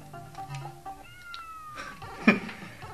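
A cat meows in the platform video game Giana's Return, heard as a single clear meow-like call with pitched harmonics and gliding tones around it, ending in a brief louder burst.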